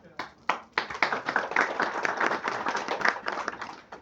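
Audience applause after a poetry reading at a library book event, starting as a few sharp claps and swelling into dense, steady clapping that fades slightly toward the end, with voices mixed in.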